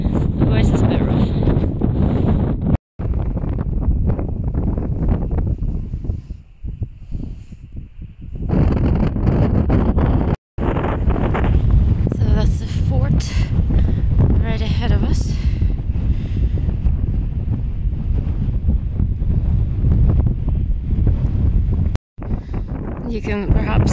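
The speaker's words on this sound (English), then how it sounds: "The wind is icy cold" Strong, icy cold wind buffets the microphone almost continuously outdoors near an old hillfort, a loud broadband roar with rustling and brief dropouts, and a person talks faintly beneath it.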